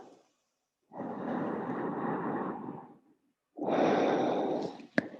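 Deep, slow breathing during a hip-opening yin yoga practice, one long exhale followed by a pause and a second full breath, close and clear, ending in a sharp click.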